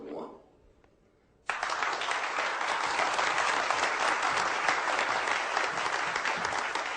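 A brief faint voice fades into near silence, then an audience abruptly bursts into loud, sustained clapping that continues steadily to the end.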